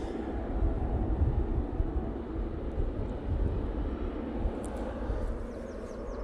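An airliner arriving at Manchester Airport, heard as a steady, distant low rumble of jet engines that holds evenly throughout with no talking.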